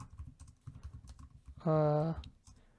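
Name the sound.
typing on a computer keyboard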